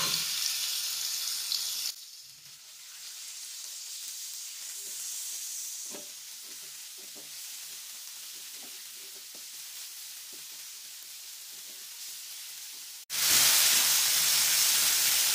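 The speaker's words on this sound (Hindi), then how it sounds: "फ्राई पैन में मैंने 1 टेबल स्पून वेजिटेबल ऑयल डाला है और अब हम इसको फुल हीट पे कुक कर लेते हैं।" Chicken frying in vegetable oil in a frying pan at full heat gives a steady hissing sizzle with faint scattered crackles and a few stirring knocks, broken by abrupt cuts and a louder hiss at the end, no voices.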